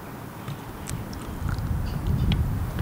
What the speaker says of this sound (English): I'm over here eating termites.